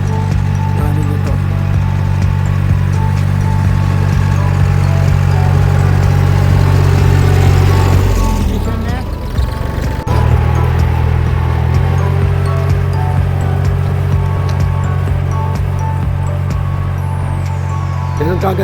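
A tractor ploughs a sugarcane field, its engine a steady close low drone throughout, briefly dipping in load midway before resuming the same heavy mechanical rumble.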